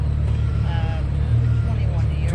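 A supercharged 1993 Fox body Mustang with an otherwise stock engine drones with a deep, even rumble up close, with faint talk in the background.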